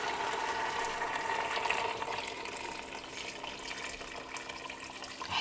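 Water pours in a steady rushing stream into a pot of fried ingredients for an Algerian fish dish, loud and continuous for several seconds with no voices.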